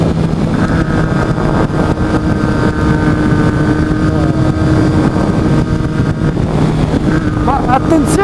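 A motorcycle engine drones steadily under heavy wind rush while people talk over it.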